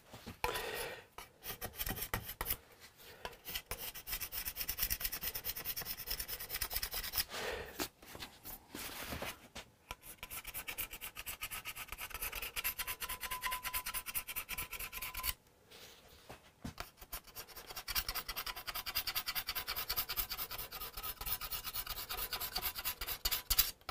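A steel scraper drags over the wood of a Hofner Galaxie guitar body in long, continuous, fairly faint rasping passes, broken by a few brief pauses.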